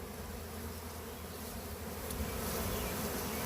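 Honey bees from a large swarm buzz in a dense, continuous drone close to the microphone, growing slightly louder toward the end, with no voices.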